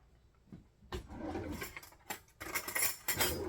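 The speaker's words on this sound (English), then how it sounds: "So just scrape that spoon" A spoon scraping cabbage casserole topping off onto a dish, giving a run of close scrapes and clinks of metal against the dish with short pauses between them.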